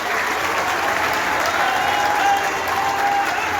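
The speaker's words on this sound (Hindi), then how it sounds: "आपकी तालियां बहुत कमजोर हैं मित्रों" Audience applause at an official government event in Uttar Pradesh with Chief Minister Yogi Aditya Nath and central ministers attending, a dense steady clapping from a large crowd held at one level throughout.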